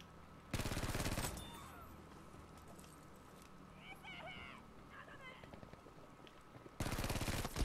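Battlefield 5 gunfire from a Type 2A, two loud dense bursts of rapid automatic fire near the start and end, with quieter battle noise and faint distant shots in between.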